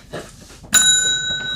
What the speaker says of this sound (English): My bell.